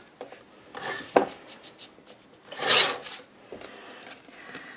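Paper being trimmed off a flap for a handmade mini album, a few quiet rasping cuts and rustles with one longer scraping stroke in the middle.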